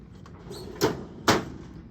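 A drawer on an adult and pediatric airway cart opening, heard as two quick, close sliding clacks about half a second apart over a quiet room background.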